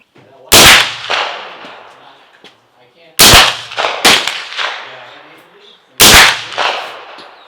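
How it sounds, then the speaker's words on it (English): An MP5 fires with KCI Gen 2 magazines outdoors: loud, sharp shots ring out in separate bursts, some single cracks and some quick doubles, each trailing a brief echo, with quiet gaps between. "let me go ahead and show you some more shooting with these"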